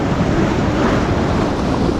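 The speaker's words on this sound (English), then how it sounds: "You can see that swell rolling in." Sea swell rolling in against rocks on a rocky shore while lure fishing for wrasse, a steady broadband wash of surf with wind buffeting the microphone, constant and close.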